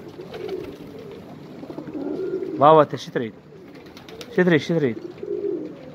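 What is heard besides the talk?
old Iraqi pigeons cooing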